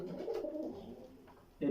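Pigeons coo in a loft of breeding birds, a low soft burbling run of calls that fades midway and then swells louder at the very end, fairly close and with no talk over it.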